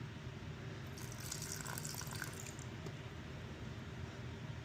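Water poured into a sourdough starter during feeding: a soft, brief trickle and splash at close range, faint against a quiet room, with no talking.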